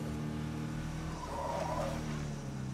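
A damaged car engine in State of Decay 2 runs with a rough, uneven drone and a brief rise in revs midway, steady and close throughout.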